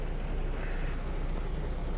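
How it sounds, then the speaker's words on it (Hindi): Heavy rain pours at night on a road trip near Alwar, a dense, steady hiss that fills the whole clip at close range with no talking. "बहुत तेज बारिश हो रही है।"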